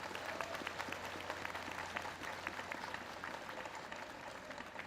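A crowd outdoors at a homecoming welcome gathering applauds the Jeollabuk-do Provincial Traditional Korean Music Orchestra, giving a steady wash of clapping that stays faint and distant throughout.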